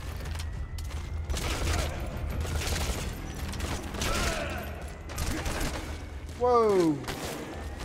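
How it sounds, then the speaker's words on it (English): Gunfire rattles in a Metal Gear Solid V mission at Mother Base, with bursts of shots, mechanical clatter and a rising whoosh near the end, mixed under a player's excited talk. "Who's shooting me?"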